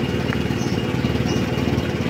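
An old car that won't pull properly runs with its engine turning over in a steady, close, throaty low rumble that holds throughout without a break, with no one talking.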